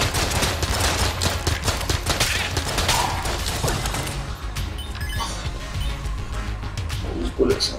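Rapid gunfire and bullet noise from the twin-stick shooter Enter the Gungeon rattle in dense bursts with mechanical clicks, thinning out later, while someone talks excitedly over it.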